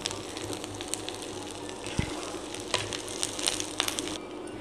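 Garlic sautéing in hot oil in a pan for pickle, a steady soft sizzle with a few scattered clicks and scrapes, no voices.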